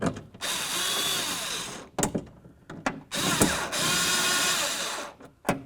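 A cordless power drill drives two 10mm mounting bolts into a window regulator on a 2003-2007 Honda Accord, close and loud, running in several whirring bursts of about a second each, with short pauses and clicks between them.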